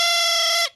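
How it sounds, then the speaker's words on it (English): A silly-sounding cartoon instrument, the thrump warbler, plays one bright, buzzy sustained note that holds steady for well under a second, then cuts off abruptly. "This is called a thrump warbler."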